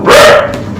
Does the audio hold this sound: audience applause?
no